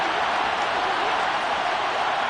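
Football stadium crowd roars in a steady, dense wash of cheering ahead of a big third down, loud and continuous with no break.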